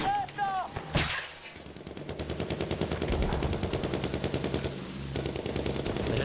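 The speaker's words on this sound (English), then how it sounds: "The sniper shots are so loud, effectful." Rapid gunfire bursts from a Battlefield 1 match, dense, loud and steady for several seconds after a sharp opening crack, with a brief voice at the start.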